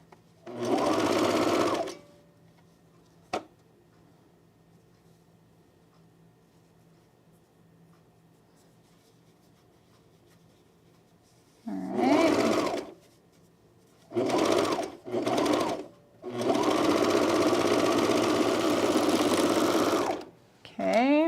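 A sewing machine stitches a jumpsuit bodice to the back waistband in several bursts, a long run at the start and then three shorter runs and one long one near the end, loud and close with quiet pauses between.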